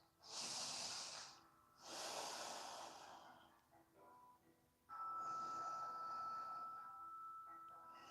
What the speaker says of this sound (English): lowering your left foot down to the ground, breathing through your nose